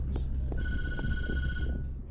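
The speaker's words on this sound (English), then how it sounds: "The phone begins to ring when you get upstairs" An old-style telephone in Tattletail rings with a harsh, buzzing trill that lasts over a second. A few soft thumps and low background rumble surround it.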